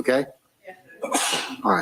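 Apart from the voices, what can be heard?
a person sneezing in a courtroom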